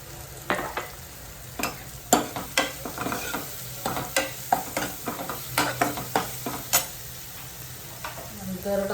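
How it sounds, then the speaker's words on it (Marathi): Onion and tomato sauté in oil in a pan, a close, steady sizzle broken by repeated scraping and clinking strokes of a spatula. "कांदा टोमॅटो चांगला तेलात परतून घ्यायचा आहे"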